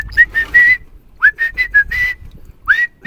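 A person whistles a melodic tune in bursts of rising and steady notes with short pauses between phrases, close and fairly loud, with no talking.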